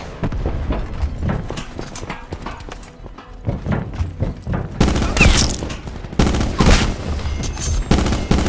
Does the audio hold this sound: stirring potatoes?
no